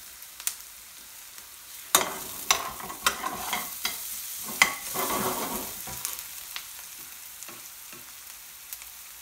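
Onions frying on medium-low heat in a pan, soft continuous sizzle with several sharp stirring scrapes and clacks of a utensil, close and alone without talk.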